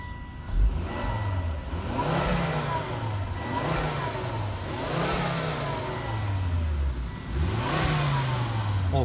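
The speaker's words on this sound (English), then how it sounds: "Little 5-cylinder runs good. Hear a little turbo spool there." A 2004 Volvo XC90 2.5T with a five-cylinder turbo engine runs steadily close by, its revs rising and falling in smooth swells with a faint turbo spool, and no voices.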